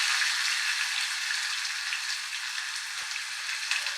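Chopped onions fry in a pan with a steady, close, bright sizzling hiss that stays even throughout, no voices present.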